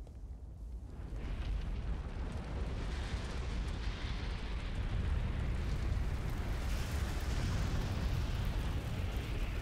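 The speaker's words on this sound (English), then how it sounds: "The fire's starting over there." Erdtree going up in flames in the Elden Ring video game: a loud, sustained roaring rumble of fire and deep booming bursts that holds steady for the whole stretch, with no talking over it.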